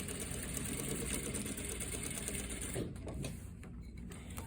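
A sewing machine runs steadily, stitching elastic onto a pajama pant waistband, its rapid mechanical whir continuous before slowing and easing off near the end, with no talking.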